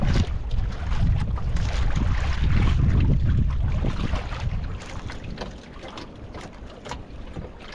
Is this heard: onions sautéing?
no